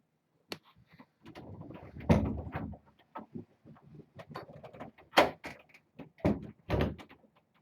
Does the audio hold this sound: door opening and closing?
yes